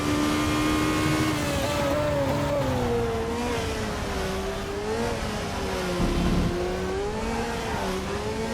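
The FR2 race car's engine drones loud and steady at Zandvoort in the RaceRoom Racing Experience video game, with its pitch rising and falling as the car accelerates through gears and corners.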